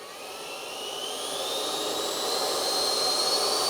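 An Arrows RC Marlin 64mm electric ducted fan sport jet spins up to half throttle, a loud close whine that climbs steadily in pitch and volume and rushes with airflow, with no voices.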